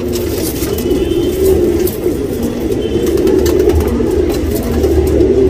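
Tournament pigeons in a Bangalore loft coo in low, throaty, rolling bursts that repeat close by, with a faint engine hum in the background.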